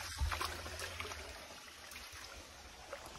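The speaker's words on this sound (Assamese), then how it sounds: "পুৰা একদম শান্ত শান্ত পৰিৱেশ দেই পানীখিনি মাতহে অকল" Water trickles and flows gently in a shallow jungle river in a quiet setting, a soft, continuous burble heard close by with no other sounds over it.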